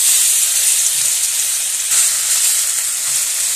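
Grated potatoes hit hot oil in a kadai with a loud, steady hiss and sizzle, close up and continuous with no talking.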